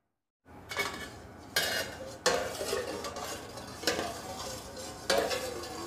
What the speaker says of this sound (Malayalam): സോഡിയം സിലിക്കേറ്റ് കൂടെ ആഡ് ചെയ്ത് നന്നായിട്ട് ഇളക്കുക.